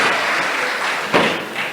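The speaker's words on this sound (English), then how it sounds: "could I have a round of applause for everybody being here?" A community-centre meeting audience gives a round of applause, a dense, steady wash of clapping that holds at an even level from start to finish, with a single louder thump near the middle.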